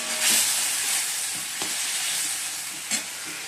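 Banana stem sautéing in a pan with ginger paste and cumin, a steady close sizzle with the scrape of stirring and a few sharper clatters, no talk.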